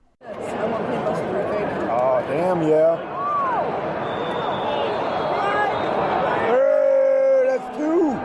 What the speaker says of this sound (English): Here's how the crowd reacted.